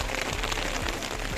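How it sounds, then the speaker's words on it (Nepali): Heavy hail falling on a tent in a forest, a dense, continuous drumming patter on the fabric heard close from inside, with no talking. "ओ असिना हेबी परेछ"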